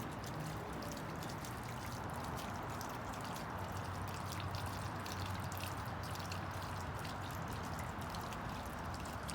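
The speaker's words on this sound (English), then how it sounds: "they're just draining that hot water tank for the winter" Water drains steadily from the hot water tank of a 2008 American Spirit LQ horse trailer with living quarters, a faint, continuous trickling and splashing hiss with no one speaking.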